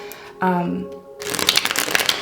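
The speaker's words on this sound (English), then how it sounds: "I'm also going to shuffle the cards on camera." Tarot cards are shuffled by hand in a quick, dense flurry of riffling and slapping card sounds, close and fairly loud, following a brief stretch of speech.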